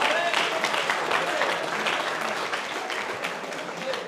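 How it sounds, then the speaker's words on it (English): Steady, dense applause fills a hall at a death anniversary gathering for Amanullah Khan in Kortrijk, Belgium, holding at an even loudness throughout with a faint voice in the mix. "Clap for you."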